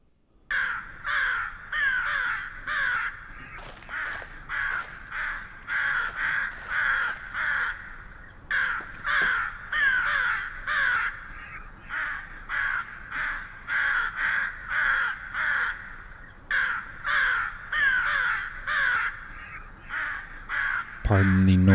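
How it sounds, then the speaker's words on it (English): Crows caw in a game forest, with dense repeated calls from several birds in steady bursts, loud and close throughout and barely pausing. "Pardon the noise of the crows."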